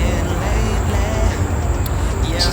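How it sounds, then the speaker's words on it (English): An air conditioning unit runs outside by a deck under repair, making a loud, constant broadband whoosh and low rumble that fills the whole stretch without a break. "excuse the noise from my air conditioning unit"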